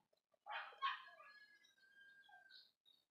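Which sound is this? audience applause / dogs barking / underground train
dogs barking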